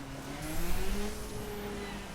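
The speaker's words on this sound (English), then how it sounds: "Second gear, completely stuck here again, wheel spinning." A hot hatch's engine revs steadily in second gear as its wheels spin on a dirt track in the racing game The Crew, a sustained mid-pitched drone with rising whine, heard alone.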